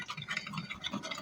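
Mushroom gravy and water are stirred in a bowl for a Thanksgiving meal, giving a brief, faint, close scraping and swishing of a utensil against the bowl.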